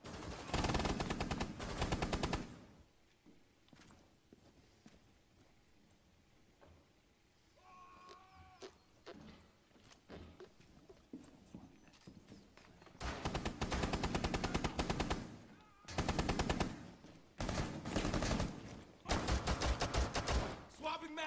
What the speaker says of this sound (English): There's bullets coming into the room and I don't know where they're coming from.